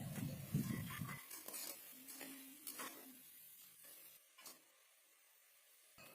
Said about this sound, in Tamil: புதினா கொத்தமல்லிலாம் அதை நல்லா மிக்ஸ் பண்ணி விட்டுருங்க